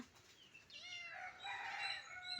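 A chicken calls faintly in a drawn-out, wavering squawk that rises and falls over a couple of seconds, heard alone at low volume.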